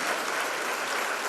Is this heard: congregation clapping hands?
yes